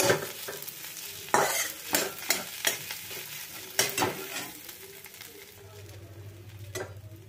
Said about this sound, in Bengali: ফ্লেমটা কিন্তু এখন একদম লো করে দিয়েছি। এটাকে ভালোভাবে আমি নাড়াচাড়া করে নেব।